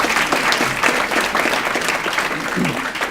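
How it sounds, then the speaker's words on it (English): Audience applause fills a gala hall, a dense, continuous wash of many hands clapping at close range for the full stretch. "we need to give them a shout out and a round of applause"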